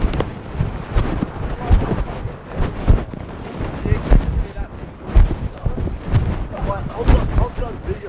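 Deodorant can bomb exploding outdoors, heard as a string of sharp rifle-like bangs and cracks with rumbling echoes, at moderate distance, while people talk around it.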